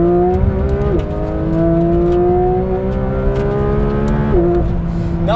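The naturally aspirated engine of a 992 Porsche 911 GT3 RS revs out loud and close, its pitch climbing steadily through two upshifts marked by brief dips.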